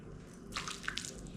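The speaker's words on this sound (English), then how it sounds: "tablespoons of pasta water out" Pasta cooking water is spooned out of the pot and into a bowl of pesto sauce. A few soft, faint liquid drips and splashes come in the second half of the clip, against a quiet kitchen background.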